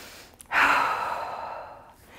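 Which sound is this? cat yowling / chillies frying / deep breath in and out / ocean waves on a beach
deep breath in and out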